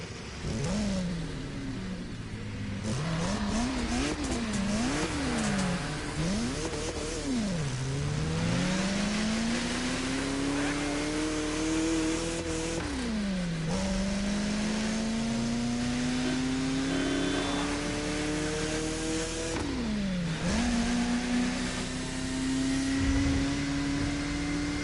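Car engine in The Crew Motorfest driven off-road, revving and dropping repeatedly, then climbing through long rising pulls with gear shifts, loud and continuous throughout.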